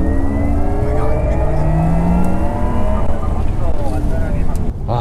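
A Porsche Taycan electric car accelerates hard in Sport Plus mode, heard from inside as a steady, loud rising electric whine with layered tones over road rumble and no speech.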